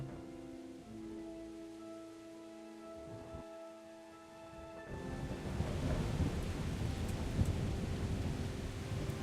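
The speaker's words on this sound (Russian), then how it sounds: "А дождь до сих пор идет?" Steady rain with a deep rumble of thunder in the video game Kingdom Come: Deliverance; a sustained musical tone fades out midway as the downpour grows louder and fuller.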